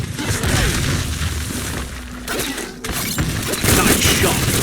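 Gunfire in the Biomutant video game, a dense volley of sharp bangs and crashing impacts over busy game sound, with brief voices in the mix.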